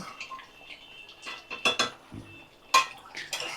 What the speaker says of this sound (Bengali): মাটনের তো আমি কিছুক্ষণ ভালো করে নাড়াচাড়া করে নেব নিয়ে মাটনটা কষিয়ে কষিয়ে রান্না করতে হবে